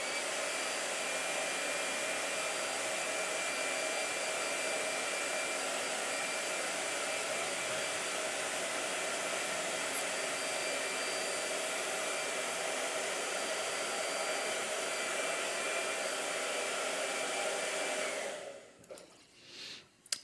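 A blow dryer runs steadily and loudly for a long stretch, its constant whooshing hum then cutting off near the end, with no talking.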